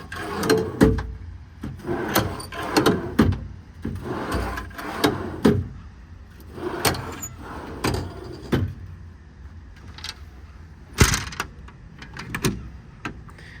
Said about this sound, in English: These drawers slide really nicely.